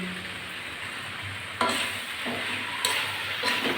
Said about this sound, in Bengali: আমি চাপাটা খুলে এখন একটু নাড়াচাড়া করে দিচ্ছি আর কাঁচা পাকা লঙ্কা ভালো করে রেখেছিলাম দিয়ে দিচ্ছি